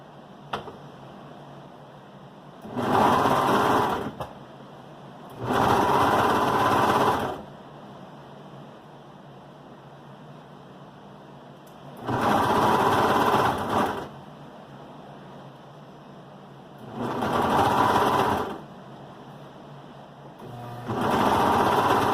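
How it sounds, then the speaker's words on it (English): Brother 1634D serger running in five separate bursts, each a second or two long, stitching the edge of a dog sweater neck, with quiet pauses between runs and no talking. "I'm going to serge the edge together"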